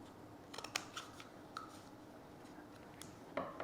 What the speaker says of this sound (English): you're going to cut about 5 or 6 little cuts right to that pencil marking